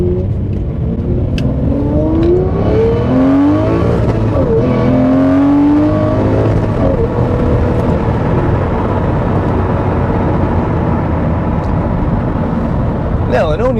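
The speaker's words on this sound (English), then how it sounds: "the Murci has that F1 type sound" A Lamborghini Murcielago engine revs hard, its pitch climbing and falling in several loud, close sweeps over a steady rumble, then settling into a sustained roar.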